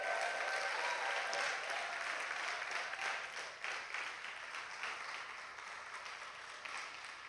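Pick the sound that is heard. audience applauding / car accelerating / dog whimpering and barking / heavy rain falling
audience applauding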